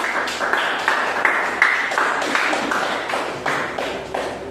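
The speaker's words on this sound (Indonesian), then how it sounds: "Tepuk tangan buat si Sarwono." A small group in a Christian religious education class claps hands in steady, dense applause for a student, continuous and fairly loud for several seconds with faint voices mixed in.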